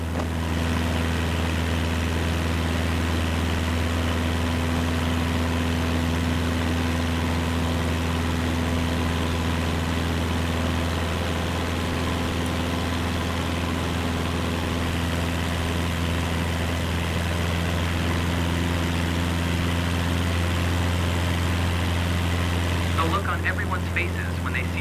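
Cessna light aircraft engine droning steadily in flight, a loud, constant low hum that carries unbroken throughout with no pauses.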